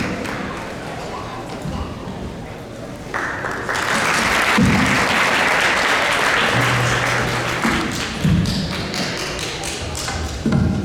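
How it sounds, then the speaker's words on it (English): An audience at a Sunday feast lecture applauds warmly, a dense sustained clatter of clapping that swells and holds for several seconds, with a few thumps and scattered voices. "please join me in giving a warm round of applause to Nimaisundar Prabhu"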